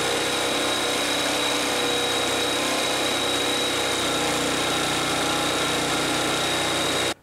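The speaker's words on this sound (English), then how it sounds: "to make it work extra hard, I'm going to use a dull pruning blade to cut that 4x4" A Milwaukee M12 cordless saw cutting through a 4x4 with a dull pruning blade gives a loud, continuous motor whine and rasping drone that holds steady for several seconds before stopping abruptly.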